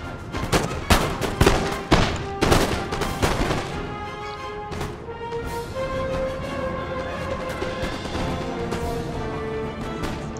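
Line infantry fire musket volleys in the Napoleon: Total War video game: a ragged cluster of loud cracks and booms comes in the first few seconds, then scattered shots fade under sustained game tones.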